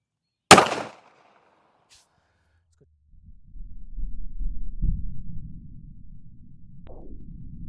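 A Beretta Cheetah 80X pistol fires a single Remington Ultimate Defense 102 gr bonded jacketed hollow point .380 ACP round with one sharp, loud, close blast that decays fast, followed by low rumbling outdoor noise.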